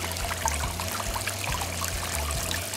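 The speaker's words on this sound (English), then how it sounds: "But I'm always trying to find different ways to get the water to run." Water trickles and splashes steadily from a whimsical glass water fountain fitted with three spigots, a continuous near stream over a low, repeating hum, with no voices.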